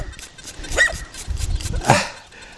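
A small dog yips and barks sharply twice, close by, with some low background rustling between the barks.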